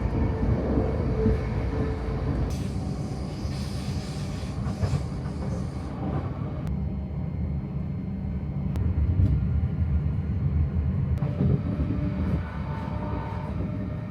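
A steady, loud rumble of a moving passenger train runs from inside the carriage, continuous throughout, with a few sharp clicks and rattles over the top.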